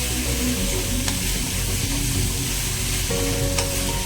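Spices tempering in hot oil for a spicy vada curry give a steady, close sizzle and crackle of frying that runs continuously, with faint stirring.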